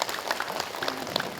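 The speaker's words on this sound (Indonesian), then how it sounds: "tepuk tangan sekali lagi buat seluruh majelis taklim yang hadir" A brief burst of applause from a women's Quran study group audience at an Islamic gathering, steady scattered clapping for a second and a half.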